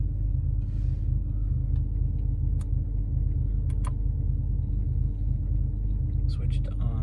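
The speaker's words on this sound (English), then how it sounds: "I'm going to wait for the air compressor to be done. Fills up the tanks." Audi A8 (D3) air suspension compressor running to fill the air tanks, a steady low rumbling hum that stays constant throughout, with a few faint clicks and brief soft sounds over it.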